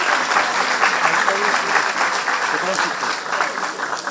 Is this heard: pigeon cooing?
no